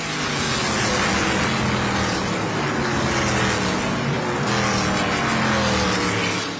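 ARCA Menards Series West race cars roaring around Evergreen Speedway during the NAPA Auto Parts 150, a loud continuous engine drone with rising and falling pitch as cars pass close by.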